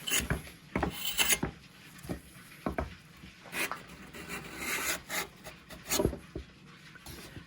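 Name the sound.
Veritas cabinet scraper scraping wood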